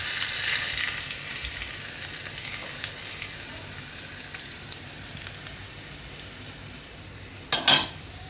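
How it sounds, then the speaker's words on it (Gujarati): Hot sizzling tempering of oil, curry leaves and asafoetida is stirred into bottle gourd chutney. The hiss starts strong and slowly fades, with a brief spoon-and-pot clatter near the end. "તો આને આપણે હવે મિક્સ કરી દેવું આમાં આ રીતે વઘાર"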